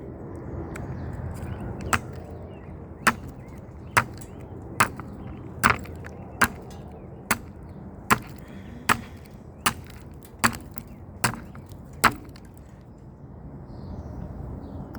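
A Spyderco Mule Team 40 knife blade chops into ice in a steady run of about a dozen sharp, separate impacts, roughly one per second, close and crisp over a low, quiet background.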